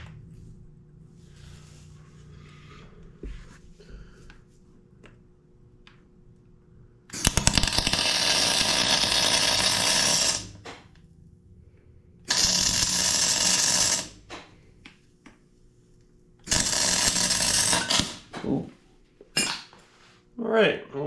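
Welding with a Miller 252 welder on a diesel trench compactor, three loud sustained bursts of crackling, hissing arc noise separated by quieter gaps with clinks and handling sounds.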